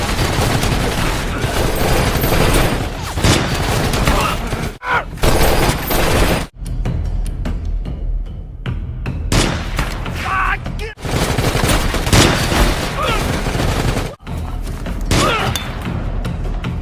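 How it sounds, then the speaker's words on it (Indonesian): Gunfire fills a Chinese military action film battle scene, with dense sniper and automatic shots crackling loudly and continuously, broken by brief pauses and thuds under a busy soundtrack. "Teman-teman Leng Feng yang lain pun tewas terkena tembakan sniper dari timnya Tomcat."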